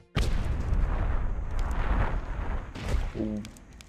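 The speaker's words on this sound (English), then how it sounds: "You have some troops to hunt down zombies that violently explode." Zombies violently exploding in the strategy game Myth: The Fallen Lords, a loud sustained blast with rumbling debris that runs nearly four seconds, then a second burst and a short tonal sound near the end.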